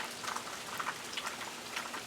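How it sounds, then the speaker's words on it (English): Steady rain falls outdoors after a night of storms in the rural South, a soft continuous patter of drops with scattered louder splashes, fairly quiet and even throughout with no voices. "it's still raining. It's rained about all night"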